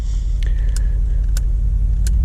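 Mercedes C63 AMG Convertible engine in sport plus mode, a deep steady low rumble from close by, with a few short sharp clicks and brief mechanical noises over it and no talking.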